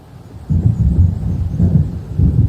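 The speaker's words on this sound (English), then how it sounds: "It seems there's a storm coming." Thunderstorm in the video game Alan Wake: a low, heavy rumble of thunder that swells in three rolling waves, loud and near, with no other sounds over it.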